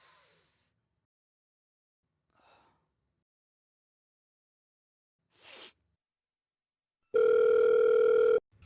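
A telephone rings with an incoming call, one loud sustained electronic ring burst near the end after long near-silence broken only by a few faint breaths and rustles.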